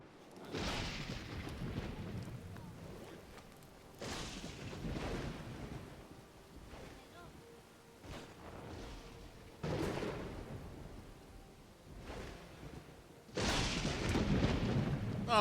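Violent storm thunder and lightning strikes in the Dawn of Man game, several heavy booming rumbles arriving at intervals, each swelling and fading, with the last crack the loudest and closest.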